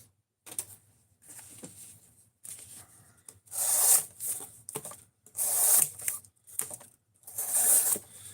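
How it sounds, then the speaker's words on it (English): A steel throwing knife being filed by hand, with repeated rasping strokes in an uneven rhythm, growing longer and louder toward the end, close and alone. "it's going to be way easier than doing it by hand with a file"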